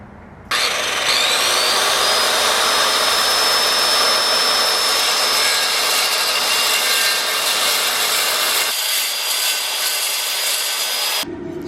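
A sheet of aluminum being cut outdoors in a yard with a power tool, a loud, steady, high-pitched continuous cutting whine lasting about eleven seconds with no talk.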